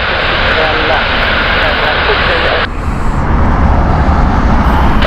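United airliner arriving at Heathrow, a loud, steady jet engine roar with a broad rumble that shifts partway through as the aircraft passes close by, with no talk over it.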